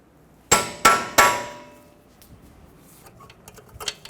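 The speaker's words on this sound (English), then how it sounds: "Stake the nut so it can't back off." Three sharp, ringing hammer blows in quick succession stake a freshly torqued axle nut on a 2014-2019 Toyota Highlander front wheel bearing, followed by faint scattered ticks and taps.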